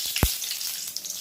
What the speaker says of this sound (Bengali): এবার আমি ফোড়নগুলো দেব। গোটা জিরে,